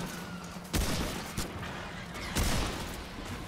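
Gunfire from teammates in the video game Remnant, three sharp shot bursts spaced apart over a constant hiss of game noise, fairly close and loud, with no talking.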